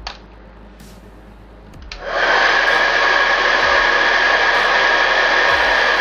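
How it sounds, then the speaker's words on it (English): A heat gun switches on with a click and then blows a steady, loud, airy roar as it shrinks heat shrink tubing over braided PC cables, heard up close and alone. "you can heat this up now to fix it off"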